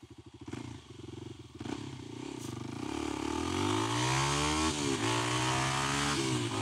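Kawasaki KLX300 dual-sport motorcycle pulling away from a stop, its single-cylinder engine revving up hard and climbing steadily in pitch through the gears, loud and close with a rough buzzing exhaust and no talking.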